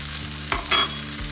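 Tomatoes, green beans and prawns sizzling in a frying pan as a spoon gently stirs them, one or two soft scrapes over a steady close frying hiss, with no voices.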